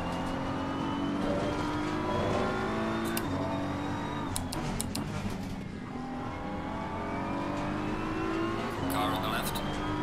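A Porsche race car in an Xbox racing game revs and accelerates with a steady, loud engine drone, rising and falling in pitch, with brief tyre squeals and other cars around it throughout.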